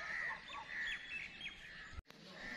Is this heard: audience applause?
no